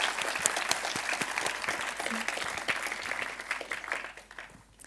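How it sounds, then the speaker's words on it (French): An audience at a French event about youth and space applauds a panel. Dense, steady clapping at moderate level fades toward the end. "On peut les applaudir bien fort, s'il vous plaît"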